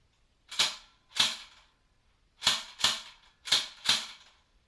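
Umarex H&K G36X airsoft rifle firing short full-auto bursts, sharp snapping shots in quick pairs and triplets separated by brief pauses, close and crisp with no voices.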